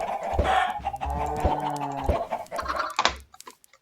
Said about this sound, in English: Let's collect some eggs real quick. Turn them into baby chickens.